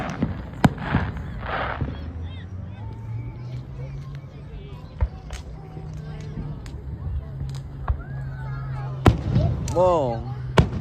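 Scattered firework bangs pop intermittently through a long stretch of steady crowd noise and a low hum, while a voice chatters excitedly near the end.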